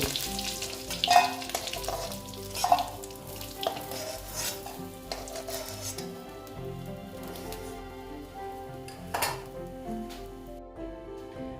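Dried fish (shutki) frying in hot oil in a pan, a steady close sizzle with a few louder crackles and stirring clatters early on, no voices.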